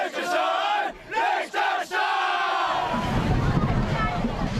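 Crowds gathered at Hong Kong dragon boat races shouting and cheering, a loud continuous roar after a few brief bursts of voices, with wind noise on the microphone.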